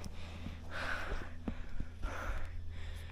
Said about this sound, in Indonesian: nafasku ngos-ngosan.